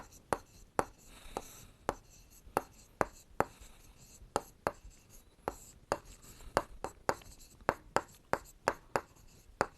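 Chalk or marker strokes on a classroom board during a Class 7 maths lesson on parallelogram area, a steady run of sharp taps and short scratches, close and clear, with no talk over them.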